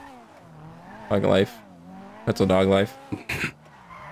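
Car tires squealing and skidding in GTA V come in several loud bursts between stretches of engine noise, with people talking over them.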